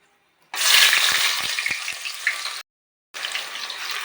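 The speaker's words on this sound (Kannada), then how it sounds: "ಈರುಳ್ಳಿ ಹಾಕ್ತಾಯಿದ್ದೀನಿ." Chopped onion dropped into a hot pan of oil for green pulao sets off a loud, steady sizzle that runs for about two seconds, breaks off briefly, then resumes.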